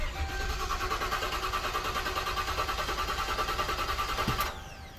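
A Ford engine cranks in flood mode with the gas pedal floored, giving a dense, steady mechanical churn with a fast regular pulse that runs loud for several seconds before dropping off abruptly near the end.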